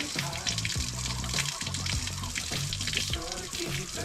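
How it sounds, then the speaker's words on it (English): Fresh water gushing steadily into a rusty EF fuel tank, a constant rushing splash with gurgling tones underneath, close by. "I got fresh water running to the tank."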